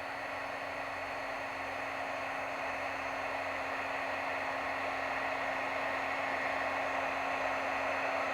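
A Precision Hot Tool heat gun passes over a freshly stamped image to raise embossing powder, giving off a steady, even blowing hiss with a faint constant hum, unbroken and alone throughout.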